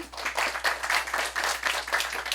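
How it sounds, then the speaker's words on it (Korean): Audience applause at a youth intergenerational filial-piety debate held at a middle school, steady and moderately soft rhythmic clapping from a small crowd lasting throughout, with no voices over it. "박수 소리 너무 작은 거 아닌가요?"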